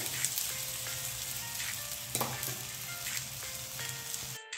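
Methi thalipeeth, a fenugreek flatbread with oil in its holes, roasting on a pan with a steady soft sizzle and crackle, close by, with occasional light taps and scrapes and no talk.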